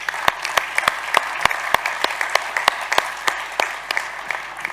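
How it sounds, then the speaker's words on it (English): Audience applause for Danfoss at a global energy efficiency conference, a thin, moderate wash of clapping with a few sharp, near, rhythmic claps standing out on top. "let's give a round of applause again for Danfoss"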